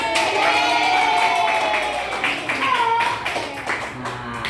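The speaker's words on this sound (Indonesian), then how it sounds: "Tepuk tangan teman-teman." Classmates in a classroom clap for a student who answered a quiz question correctly, a brief patter of hands with voices and bright vocal tones mixed in throughout.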